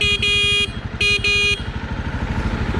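A 2021 Jawa Perak motorcycle sounds its horn in two bright, steady honks, a short one and then a longer one, over the low rhythmic thrum of the idling engine.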